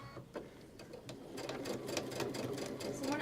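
A sewing machine stitches a quilt seam at a steady quarter-inch allowance, its fast mechanical needle chatter running continuously and fairly close, slowing briefly at the start before settling into an even, busy rhythm.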